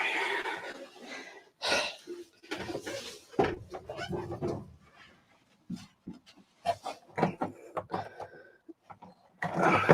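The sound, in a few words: heavy breathing on a livestream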